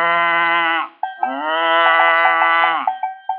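A man imitates a cow with his voice, giving a long, loud, close moo, then a second drawn-out moo that trails into short rising bursts.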